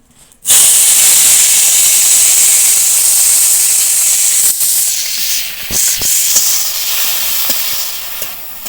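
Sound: bitter gourd frying in hot oil

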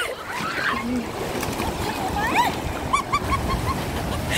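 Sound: ocean waves breaking on beach

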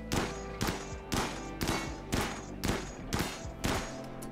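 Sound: gunfire shooting at a ship, from the video game RimWorld

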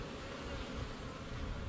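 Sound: honey bees buzzing in front of a farmhouse hive

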